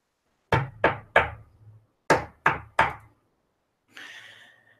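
Hard knuckle knocks on a wooden surface, imitating knocking heard from a closet, come in two close sets of three evenly spaced, sharp raps, followed by a brief breathy rustle, with no talk.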